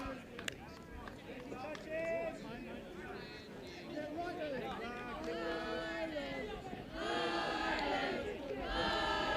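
Irish fans in a crowd cheer and shout in support of their side at a European Touch Championships touch rugby match, a steady roar of voices that swells louder near the end.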